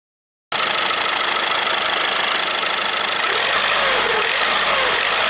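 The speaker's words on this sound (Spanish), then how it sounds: "Todavía se notaba que era un diésel." A diesel car engine runs at a steady idle after a moment of silence, a loud, dense clatter with an even knock, unchanging and without any voices.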